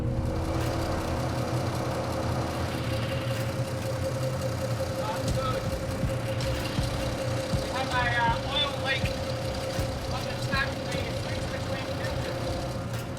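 A 1200 horsepower V12 engine on a lobster fishing boat idles with a steady low drone throughout, and a voice speaks over it in the second half.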